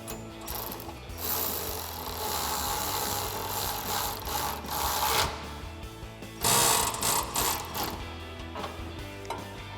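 Ratchet with a 16mm socket snugging nuts onto drop-side step bars on a 2022-2023 Toyota Tundra, giving steady rapid clicking pawl strokes in bursts, close and fairly loud, with no talk.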